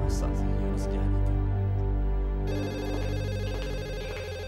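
A telephone rings in repeated electronic trills, steady and moderately loud, with a change in ring pattern partway through; no speech over it.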